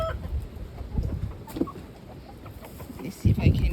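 Game hens in a farm pen cluck in short, irregular bursts, close and fairly loud, with rustling and scattered noise around them.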